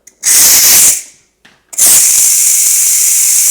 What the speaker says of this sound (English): hot steam is coming out of the valve, so be real careful, step away